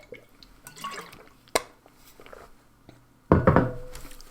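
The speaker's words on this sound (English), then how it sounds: "I gotta drink water against the hiccups" Water is poured and sipped to stop hiccups, with small drips and liquid trickles, a sharp tap, and a louder burst of gulping or pouring near the end, all close by.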